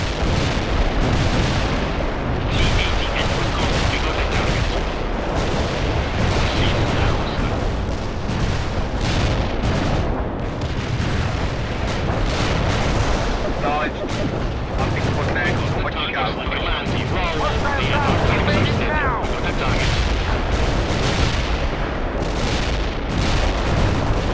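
Units in World in Conflict trade fire with the enemy: dense, continuous gunfire and booming artillery blasts, loud and unbroken throughout, with radio-style voices talking beneath the combat.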